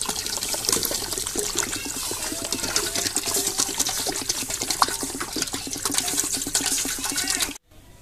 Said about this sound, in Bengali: এখানে আমি আরো পানি দিয়ে দিচ্ছি